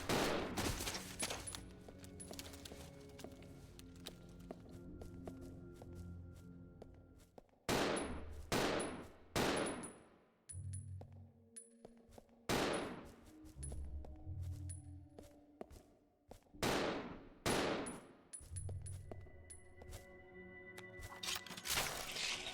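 Pistol fire in Resident Evil Zero: a series of sharp, loud single shots spaced a second or two apart, each with a broad crack and short tail, over a low game ambience and no talk.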